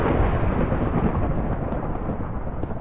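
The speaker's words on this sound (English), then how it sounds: "whoever did the sound for that thunder in Minecraft, that guy deserves a medal" Thunder in Minecraft rolls as a deep, continuous rumble with a rain-like hiss above it. It stays steady and fairly loud for a few seconds, with no voices over it.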